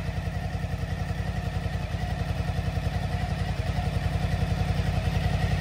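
A Suzuki DL1000 motorcycle with a LeoVince exhaust idles with a steady, low burbling exhaust pulse, running evenly and fairly quietly without revving.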